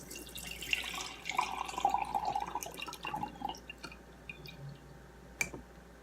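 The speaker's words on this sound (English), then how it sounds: "the first thing I need to do is strain out my buttermilk. So I have a sieve here." Buttermilk strained through a sieve while making homemade butter: soft intermittent drips and trickling liquid with small squishy splashes, close by and fairly quiet, tapering off into near silence.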